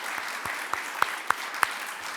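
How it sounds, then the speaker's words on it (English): Audience applause for volunteers at a civic service awards ceremony, dense continuous clapping from a crowd with a few sharper individual claps popping out near the front. "a big round of applause"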